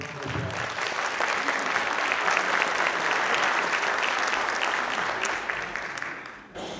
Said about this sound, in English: Let's give a big round of applause and compliments to our chef, Jeff, and his wonderful students from the Culinary Arts Program at BPACE.